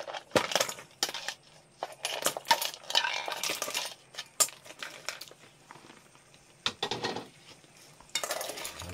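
Live mud crabs rattle and clatter against a pot as they are stirred with ginger, close and sharp, in irregular scraping knocks and clinks with short quiet gaps.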